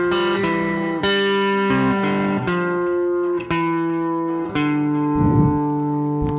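A guitar plays the faster final section of a melody, with a string of plucked notes and chords ringing close and clear. No voices are heard.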